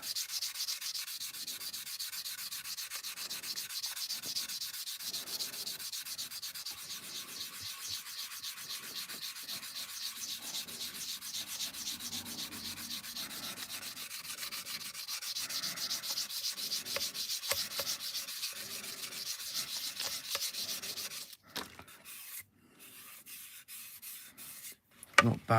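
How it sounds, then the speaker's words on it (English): A sanding stick rubs back and forth over a plastic Airfix Concorde model kit, a close, steady rasping stroke repeated rapidly for over twenty seconds before it stops with a few scattered scrapes. "Get the old sanding stick, finish it off."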